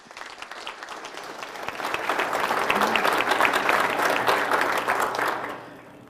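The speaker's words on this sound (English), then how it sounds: "So I'd like you to give them a round of applause" Audience applause fills a hall during a 2019 State of the City address, a steady wash of many hands clapping that swells after the first couple of seconds, holds loud, then tapers off near the end.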